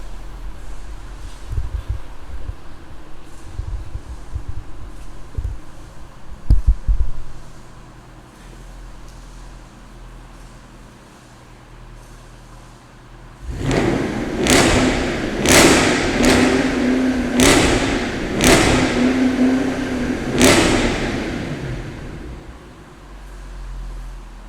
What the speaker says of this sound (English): Can't beat the sound of a V8.